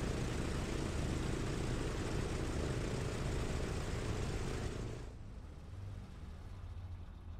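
A TBM turboprop airplane lands with a loud, steady engine and propeller roar that cuts to a lower rumble partway through as power drops.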